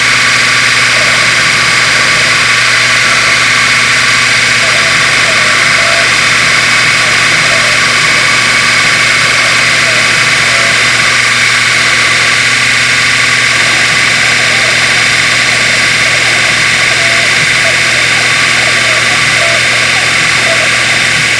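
A CNC machine engraves a bracelet charm at a slowed 20% feed rate, giving a steady, loud, unbroken drone with a bright high whine that holds throughout, with no talking.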